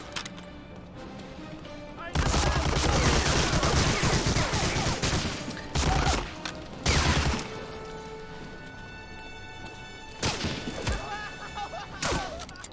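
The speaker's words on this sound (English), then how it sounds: "who puts an MG42 at the end of the hallway like this?" MG42 machine gun firing in Medal of Honor: Allied Assault, loud sustained bursts of rapid gunfire with heavy impacts, separated by short pauses and repeated several times.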